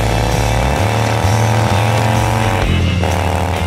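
Motorcycle fitted with a Magnaflow exhaust revving its throttle, a loud, close engine note rising and falling in repeated blips with a brief lull near the end.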